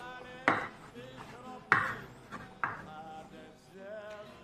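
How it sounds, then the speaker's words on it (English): Boiled eggs chopped roughly with a knife on a board: three sharp, close chops spaced about a second apart, with a few lighter taps and a voice speaking between them. "So I boiled these eggs already. I just need to chop them, have them ready."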